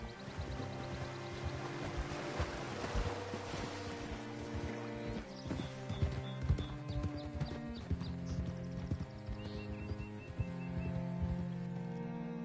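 Horse hooves clip-clop steadily through Red Dead Redemption 2 gameplay, a continuous mid-distance rhythm layered under game music and ambient sound.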